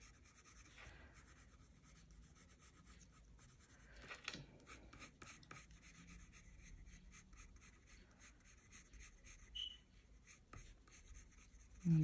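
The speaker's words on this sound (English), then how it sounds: "I'm just putting a very light wash of colour." Coloured pencil drawn lightly across paper to lay down a soft wash of colour for a stamped handmade card, a quiet, steady scratchy rubbing with short strokes and pauses, close up and alone.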